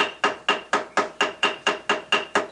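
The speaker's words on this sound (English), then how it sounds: "right where the bolt hole is, use the ball end of your hammer" Ball peen hammer tapping a gasket over a bolt hole on cast iron of an International IHC Utility 300 tractor, ten sharp, evenly spaced metallic taps close by, each ringing briefly, with no talk.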